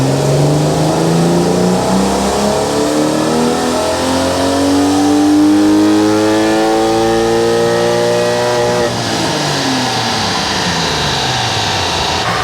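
BMW E36 328i engine pulling hard on a mobile dyno, loud and close, climbing steadily in pitch through a long full-throttle run before the revs drop away sharply near the end.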